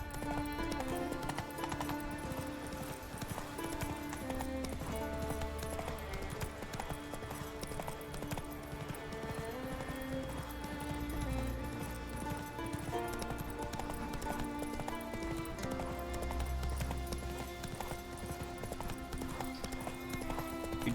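Horse hooves clip-clopping at a steady gallop in The Witcher 3, a rapid rhythmic beat running the whole time under a loud, continuous game music score.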